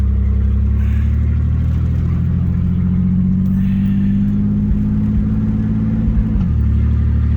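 A long-neglected Chevrolet S10 pickup truck, back on the road with a faulty transmission, gives a loud, steady engine drone while driving, with the pitch rising and then dropping near the end.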